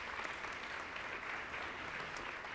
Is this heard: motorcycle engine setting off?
no